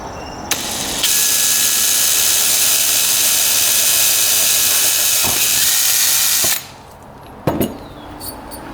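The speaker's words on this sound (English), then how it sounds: "Alright, 2 holes drilled." A power drill bores a hole through a dirt bike part in a steady high whine lasting several seconds, with a click as the trigger engages, then a drop to quieter clatter and taps as the bit stops.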